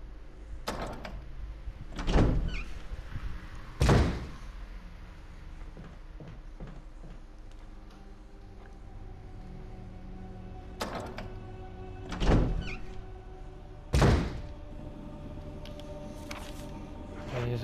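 Door sounds in the Resident Evil game: several solid thunks and clunks of a door being handled, spaced out over a quiet, hushed background, with two pairs of heavier knocks standing out.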